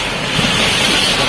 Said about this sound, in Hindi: तूफान हो रहा, तूफान हो रहा, तूफान देखिए।